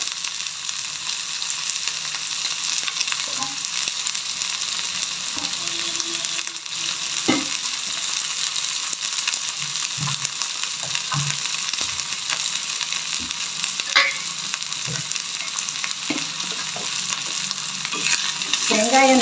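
Chopped onions sauté in a pan for a Tamil-style sundakkai vathal kuzhambu, giving a steady close sizzle with occasional spoon scrapes and stirring knocks throughout, no talking.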